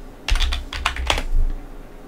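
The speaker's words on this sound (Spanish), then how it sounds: "Escribimos nuestra contraseña." Keys on a computer keyboard tapped in a quick burst of about eight clicks while a password is entered during a Teleport install on Ubuntu Server, close and clear with no voices.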